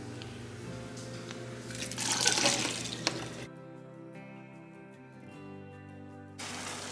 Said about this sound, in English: I'm going to drain my 15-ounce can of black beans. And my 14-ounce can of corn.